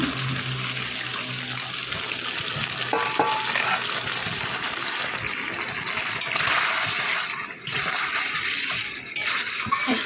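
Fried pointed gourd and prawns going into a pan, with a steady close sizzle and stirring scrapes running throughout, occasional louder bursts as the pieces hit hot oil, no talking.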